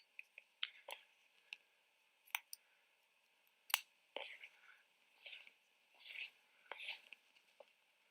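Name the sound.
scissors cutting hair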